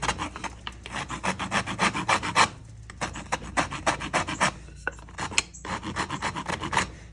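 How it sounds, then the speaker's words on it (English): A hand file rasps across the end of a wooden trench club handle in rapid back-and-forth strokes, close and steady with a few brief pauses, no voices. "Now I'm just gonna take your handle, file the end of it down"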